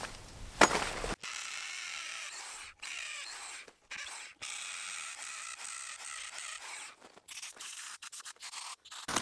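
An abrasive cutting wheel slicing off the end of a carriage bolt held in vice grips, a sustained high hissing grind broken by a few short pauses, heard alone at moderate level.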